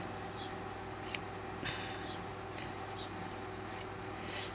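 Scissors cutting fabric give several short, crisp snips spaced about a second apart, soft and close, over a quiet low hum.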